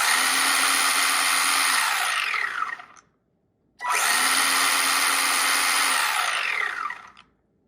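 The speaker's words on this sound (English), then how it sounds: "Now let's switch to normal speed and let's do full throttle once more." Two loud bursts of a Haiboxing 1:18 scale RC race truck's electric motor at full throttle, each a steady high whine lasting about three seconds that winds down, separated by a brief silence.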